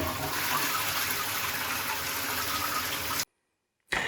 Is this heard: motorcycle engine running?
no